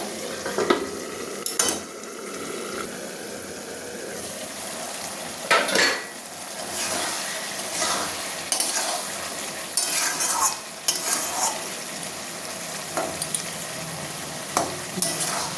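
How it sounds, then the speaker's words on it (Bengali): Fig (dumur) curry being stirred in a pan as it cooks down, with a steady low sizzle broken by repeated scraping clatters of a spoon against the pan, close and fairly loud, no talking. "এই জলটা ভালো করে শুকিয়ে গেলে ভালো করে একটু কষিয়ে নেব"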